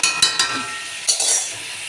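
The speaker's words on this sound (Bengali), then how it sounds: "তো আলু আর মাংসটা আমি এখন এর মধ্যে দিয়ে দিলাম। এখন ততক্ষণ ভালো করে কষাতে থাকি" Meat and potato pieces are stirred and sautéed in a pan for a light meat curry, with a soft sizzle broken by a few sharp scrapes and clinks of a utensil against the metal.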